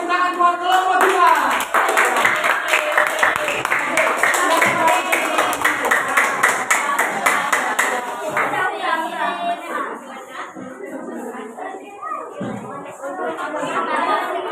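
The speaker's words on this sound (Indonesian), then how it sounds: "kita berikan tepuk tangan buat kelompok 2" Classroom applause for a student group breaks out loudly, dense rapid clapping from many hands that thins and fades toward the end while a teacher and students chatter underneath.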